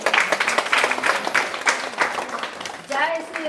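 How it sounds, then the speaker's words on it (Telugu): An audience at a devotional recitation gathering claps in a brief, uneven burst of scattered applause, with voices talking over it. "అందరూ ఒకసారి క్లాప్స్ కొట్టండి"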